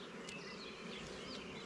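Honeybees in a nuc hive building irregular comb, a steady close buzzing hum with individual bees whining past.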